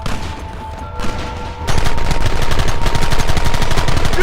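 Rapid gunfire from a Red Dead Redemption shootout, loud dense bursts of shots that intensify into continuous rattling volleys close by.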